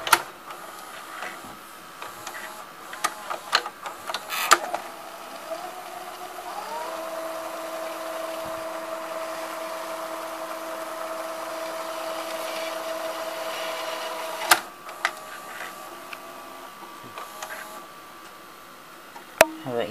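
A Funai FC-242 VCR rewinds a tape with a steady, moderately quiet mechanical whir and hum that runs for most of the stretch, bracketed by clicks and clunks of the transport starting and stopping.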